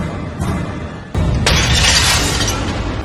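A glass window shatters with a sudden loud crash, bright breaking glass that bursts and then spills into a sustained noisy shower of falling shards, close and dominant.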